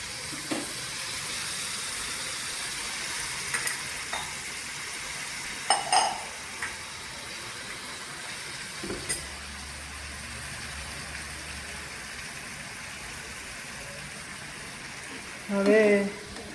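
Chilli paneer sauce with ginger, chilli, garlic and spring onion stirred and frying in a pan: a low constant sizzle with scattered soft scrapes and taps, plus a louder clatter near the end.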